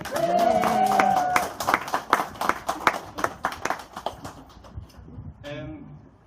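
At a book launch, a talker's voice gives way to a round of applause, loud scattered claps that thin out and fade, with another brief voice near the end.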